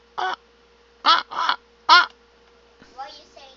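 A person imitates a bird call during a tabletop game session, giving four short, harsh, crow-like caws in a broken rhythm, followed by brief quieter speech.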